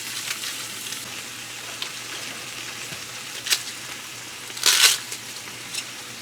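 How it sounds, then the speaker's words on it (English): Quartered cabbage is broken up and dropped into a pot that is already sizzling, with a steady fry hiss behind a few crisp leafy crunches and one louder rustling drop. "Just take and bust it up and drop it in the pot there."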